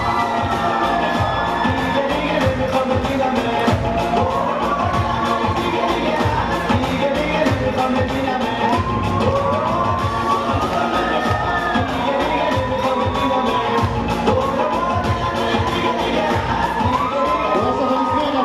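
KVN comedy league audience roaring with sustained applause, cheers and whoops, a dense, loud crowd wash that holds steady throughout without a break.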